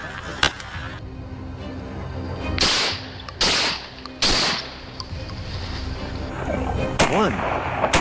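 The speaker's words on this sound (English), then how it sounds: "A deafening gunshot tore through the silence." Several sharp, loud gunshots crack out during a wild boar hunt on a farm, three spaced reports in quick succession amid rumbling outdoor noise, followed by a brief further crack.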